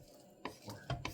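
Cooked rice being stirred and fluffed in a pot, a few soft scrapes and spoon knocks against the metal, quiet and close.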